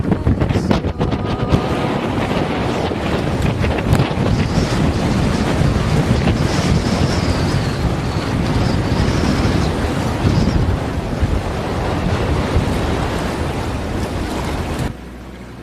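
Strong wind buffets the microphone over a continuous rush of sea swell in a sheltered harbour, a loud blustery roar that drops off abruptly at the end.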